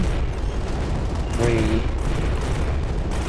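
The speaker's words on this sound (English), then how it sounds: "explosive sound effects and big explosions and lots of projectiles" Explosions and projectile fire from the arcade space shooter Starlight: Eye of the Storm, a dense rumbling barrage of blasts under a continuous noisy mix, with a voice briefly speaking over it.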